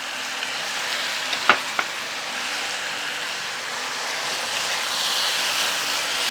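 Sliced sirloin beef with bulgogi marinade sizzles in a pan, giving a continuous hiss with a couple of sharp utensil knocks near the middle.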